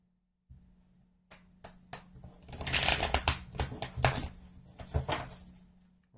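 Tarot cards being shuffled by hand: a quick run of sharp riffling snaps and flutters, close and crisp, building to a dense burst before tapering off.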